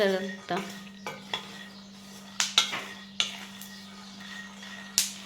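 Peanuts dry-roasting in a pan in a home kitchen, stirred with a metal spoon: about six or seven sharp scraping clinks against the pan, spaced unevenly over a steady low hum, with no talking.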